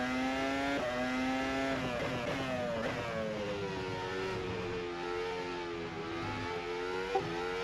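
Formula 1 car engine in a racing simulator at Baku, a loud, high, steady whine that rises in pitch and drops at several gear shifts, sounding continuously with a small click near the end.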